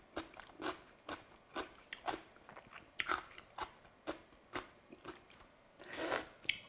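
Spicy seasoned Korean cucumber side dish (oi muchim) is bitten and chewed close up, giving a steady series of quiet, crisp crunches in an even rhythm, with no talking.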